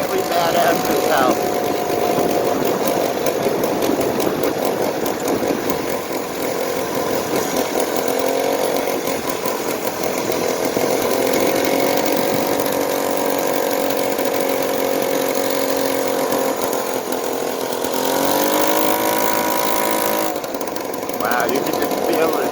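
A 139cc two-stroke engine with a CVT transmission runs steadily and loud at its first start, a buzzing, rattling drone that rises and falls with the throttle, while a person talks over it.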